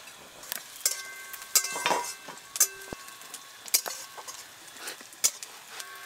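Chopped onions frying in a pan, with a low sizzle under sharp clinks and scrapes of a utensil stirring against the pan, fairly quiet and close.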